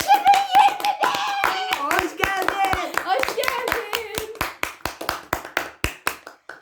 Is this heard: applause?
yes